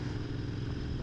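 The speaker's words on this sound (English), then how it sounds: "little extra throatiness, little burble from the exhaust" Royal Enfield Interceptor 650 motorcycle engine and exhaust, a low, steady throaty rumble heard up close and unbroken for about a second, with no voices.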